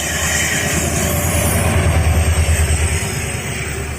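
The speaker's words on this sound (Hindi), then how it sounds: "सामने से एक ट्रेन आ रही है, चलिए देखते हैं कौन सी ट्रेन है। और ये WDP 4D के साथ आ रही है।" An oncoming train hauled by a WDP 4D diesel locomotive, a low steady engine drone with a throbbing pulse that swells mid-way, rumbling on at moderate distance with no voices.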